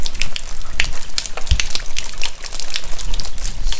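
Water gushes and splashes steadily off a rain chain hung from a roof drain, spilling over the top, a loud, continuous close-up rush with scattered drips and trickles.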